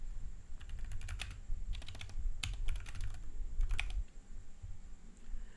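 Typing on a computer keyboard comes in quick clattering bursts of keystrokes with short pauses between, close and clear over a low steady hum.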